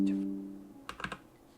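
A short burst of a few quick computer keyboard keystrokes enters a new frame rate value in a configuration file for Alice: Madness Returns. The clicks are close and clear after a brief lull.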